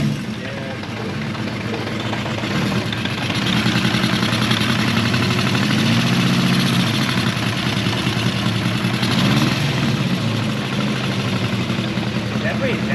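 Honda CB400F motorcycle engine fitted with K&N pod filters idling steadily and loudly, a continuous low, slightly uneven throb with a faint mechanical rattle that runs without a break throughout.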